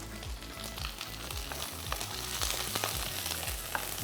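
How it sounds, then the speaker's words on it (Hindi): Onions fry in a pan on a low flame, a dense, steady sizzle and crackle close up with small popping spits throughout and no voices. "प्याज पहले फ्राई कर लिए"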